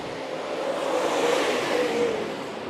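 Seven late model race cars pull away at the start of a heat race at Rapid Speedway, engines rising together into a broad, distant roar that swells and holds.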